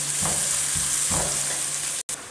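Steady sizzling of onions sautéing to light brown in hot oil for daal karela, with a few soft stirring scrapes and a brief cut near the end.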